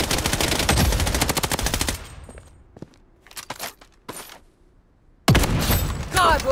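Video game gunfire in BloodStrike, a battle royale shooter: a loud, dense burst of rapid automatic fire up close, a pause broken by a few sharp scattered shots, then another heavy burst closing out, with a voice speaking in places.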